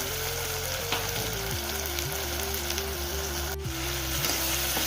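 Tomato and mutton head sauté in a pan, giving a close, continuous sizzle with occasional soft stirring scrapes and no voices.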